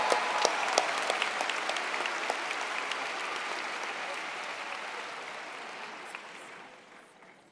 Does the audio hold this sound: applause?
yes